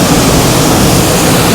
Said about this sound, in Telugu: భలే ఉంది వాటర్ ఫాల్స్.